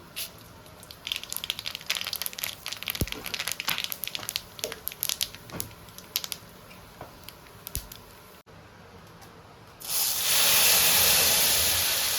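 Dried red chillies and mustard seeds crackle and sizzle in hot oil in a kadai for a Bengali tempering, a dense run of close, sharp pops over steady hiss, ending in a loud broad spray of sizzle.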